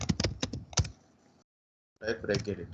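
A computer keyboard clacks through a quick burst of keystrokes, a short pause, then another burst, close and fairly crisp.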